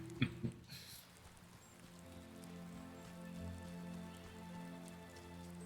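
Steady rain patters on surfaces in the game Wylde Flowers, a soft continuous hiss at low volume, with a few sharp clicks at the start and faint tonal game sounds underneath.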